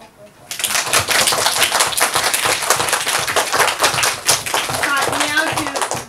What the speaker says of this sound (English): Now when they finish applauding, then say thank you.